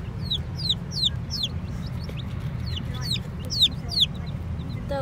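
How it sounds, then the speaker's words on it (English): Newly arrived baby chicks peep in a chorus of high, rapid chirps, close by and fairly loud, over a low, steady background rumble. "Okay, so we just got the chicks."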